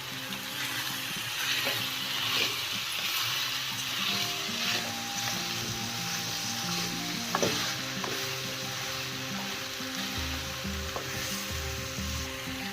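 Okra hits a hot pan for dahi bhindi and sizzles steadily, a constant loud frying hiss with small pops and stirring scrapes throughout, no voices.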